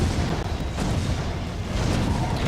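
In Defense Grid's Borderlands DLC, cannon towers keep firing, giving a steady rumbling wall of overlapping booms and thuds, loud and unbroken throughout.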